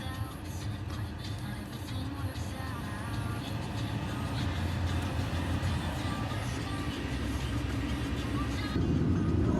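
Steady interior road noise from a family car being driven, a continuous low rumble with no clear changes throughout.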